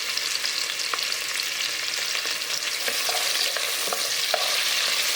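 Onions and green chilies fry with cinnamon and cloves in a cooker for kuska, a dense nearby sizzle broken by light scraping and stirring clicks, with no voices.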